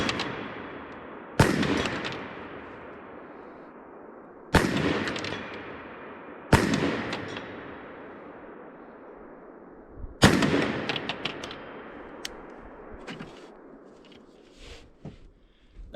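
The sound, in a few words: rifle shots at targets, Smith and Wesson M&P10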